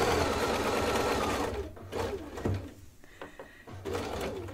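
A sewing machine stitches fabric for a holiday table runner, running in a rapid, steady whir for over a second before stopping, followed by soft clicks and handling sounds at close range.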